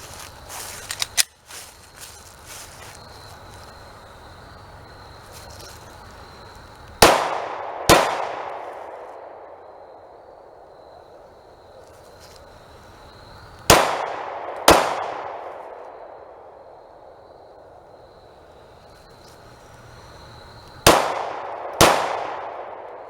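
A Glock 19 pistol fires outdoors at 7 yards in fading light, three pairs of sharp loud shots spaced several seconds apart, each crack followed by a ringing decay.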